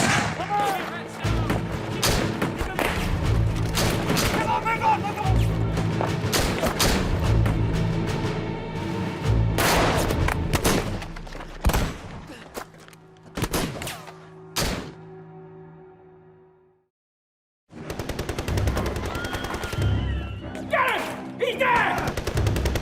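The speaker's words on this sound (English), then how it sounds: "Bullets were flying all around us." Gunfire and machine gun bursts in a reenactment of the 1916 Easter Rising in Ireland: loud rapid volleys and sharp single shots crowd the first half, thin out, break into brief silence, then resume.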